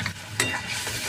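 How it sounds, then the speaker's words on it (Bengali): Ground spices with turmeric and salt frying in mustard oil over browned onions for a Bengali tilapia curry, a steady close sizzle with a brief scrape of stirring, no voices. "ভালো করে ভেজে নেব মশলাটা।"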